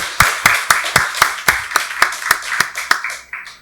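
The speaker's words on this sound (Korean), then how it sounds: "박수로 하나님께 영광 돌리겠습니다." A church congregation claps steadily and rhythmically at an Easter service, about a dozen even claps in a row, close and crisp, fading slightly at the end.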